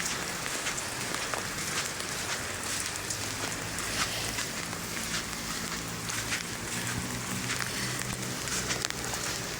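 Rain falling steadily on surfaces outdoors at Manila Bay, a dense crackling patter of drops with a low background hum, constant throughout.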